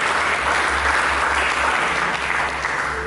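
A church congregation at a Sunday service bursts into loud, continuous applause, a thick unbroken roar of many hands clapping close and full throughout.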